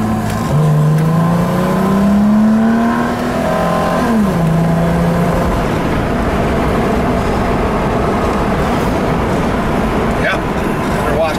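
A car drives along on the way home, its engine note rising through the gears over a steady road roar, close and loud, with people talking over it.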